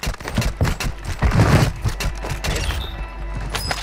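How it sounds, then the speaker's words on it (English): Mortar strike explosions in a video game, a cluster of heavy booms and crackling blasts with a dense peak mid-clip, trailing into scattered thuds and debris. "Friendly mortar strike on the way."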